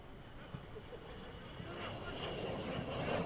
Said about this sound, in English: You hear the sound occasionally of planes flying overhead.